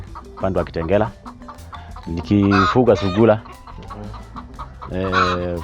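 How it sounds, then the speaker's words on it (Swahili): Chickens cluck on a rabbit farm in Kajiado County, Kenya, with repeated clucks and calls close by under a man's continuous speech. "Na I'm sure mnasikia kuku zikinini."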